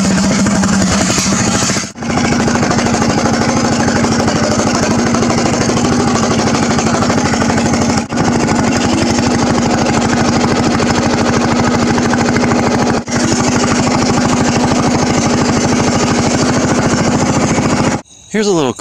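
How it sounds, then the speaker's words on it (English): A dually pickup truck's engine drones steadily and loudly on a night test drive. There are a few brief dropouts, and it runs with no talk over it. "Let's go for a test drive."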